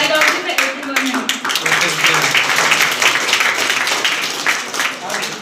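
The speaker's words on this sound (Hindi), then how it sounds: "तो जोरदार ताली से स्वागत कीजिए नेहा कुमारी का।" A school audience claps steadily for a student being welcomed at a 12th-pass celebration at Sunrise Classes Bairiya. The dense applause runs unbroken and fairly loud throughout, with a few voices mixed in.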